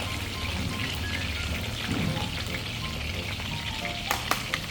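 A pork chop fries in oil with a quiet, even bubbling sizzle heard nearby, with a few sharper pops and spatters toward the end and no voices.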